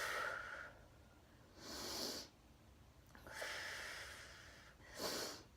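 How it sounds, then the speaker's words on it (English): Deep, audible breaths during an abs workout, four slow airy inhales and exhales spaced about every one and a half seconds, close and fairly faint with no talking. "Deep breaths."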